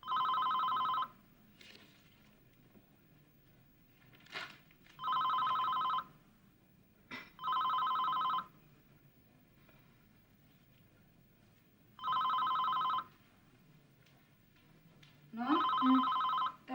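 A telephone bell rings in repeated bursts, five rings spaced about two to three seconds apart, fairly clear in a quiet room during a comedic Indonesian family sitcom scene, with a faint bump of background noise between rings.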